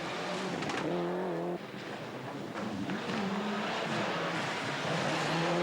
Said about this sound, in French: Le moteur ronfle